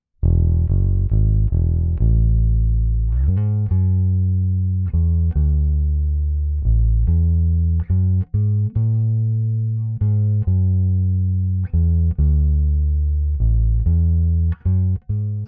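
Bass guitar played through a Phil Jones Bighead Pro, a sequence of deep, full plucked notes with a warm, mellowed top end, loud and close with no voices.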